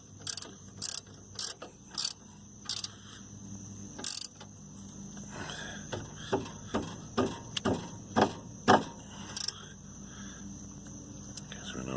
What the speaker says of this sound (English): Just tightening the bottom 17mm here.